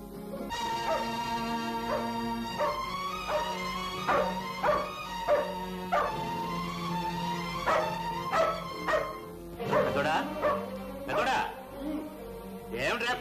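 A dog barks repeatedly in short, evenly spaced bursts in a scene from an old Telugu feature film, heard over a steady bed of orchestral music, with the barks clustering more tightly toward the end.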